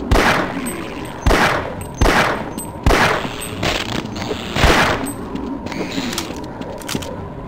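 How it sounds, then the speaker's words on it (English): Rocket launcher fire in the video game Half-Life, loud repeated blasts roughly every second with booming tails, followed by some scattered clanks and game noises, no talking. "It's a lot easier to miss with the Half-Life 1 rocket launcher."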